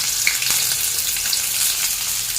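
Chopped onion and crushed garlic fry in hot oil with fried five-spice seeds, giving a bright, continuous close-up sizzle with small crackles and light stirring.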